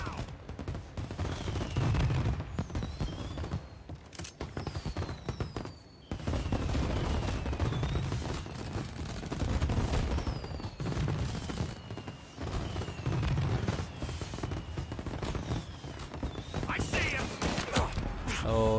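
Pistol and Tommy gun fire in the video game Mafia Definitive Edition, repeated sharp gunshots and bursts throughout a noisy firefight with game sounds around them, while someone talks over the action.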